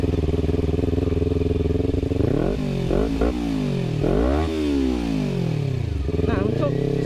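A Kawasaki Ninja 250 FI with an RVR short exhaust idles close by, then is revved several times in sharp rising and falling bursts, loud and throaty.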